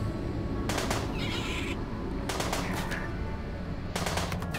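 Bursts of automatic gunfire from the RimWorld video game, three separate volleys of rapid shots over a steady low background rumble, no voices.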